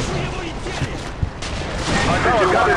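Dense gunfire in the video game Call of Duty Modern Warfare 2 on PC, a continuous crackling fusillade with scattered sharper shots and a thump, loud throughout with no clear talk.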